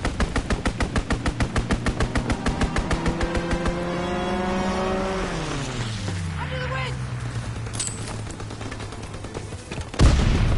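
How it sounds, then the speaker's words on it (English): Aircraft machine guns fire as a World War II fighter strafes a ground target, a loud rapid burst of regular rattling shots over an engine drone whose pitch sweeps downward as the plane passes, ending in a sharp blast. "Fighter pilot inbound. Strafing the target."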